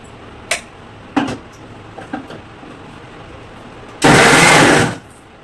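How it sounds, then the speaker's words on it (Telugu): A few short knocks and clatters, then a loud burst of whirring mixer grinder noise blending tomatoes for about a second before it cuts off. "మిక్సీ పట్టేసుకోవడమే"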